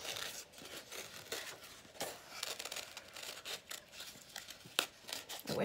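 Large scissors snipping through paper for Christmas book art, a quiet series of irregular crisp cuts and crinkles, close and faint with no talk.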